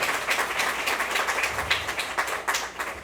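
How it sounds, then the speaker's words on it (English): Audience applause for the Shani Baraka team at a domestic partner violence conference, a steady wash of many hands clapping throughout with a slightly uneven rhythm, no talk over it. "let's give the Shani Baraka team a hand clap"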